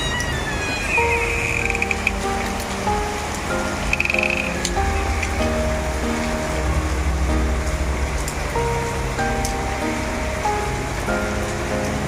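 Steady rain falling on surfaces, a dense continuous patter with scattered louder drips, moderately loud and close, while a faint tonal hum runs underneath and nobody speaks.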